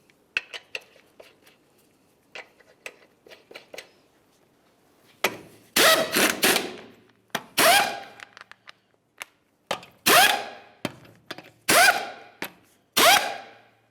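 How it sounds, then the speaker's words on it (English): An impact wrench runs 22mm lug nuts onto a front wheel of a 2005-2010 Dodge Dakota, with quiet clinks first, then a series of loud, close, whirring bursts. "Start on all 5 of your 22mm lug nuts,"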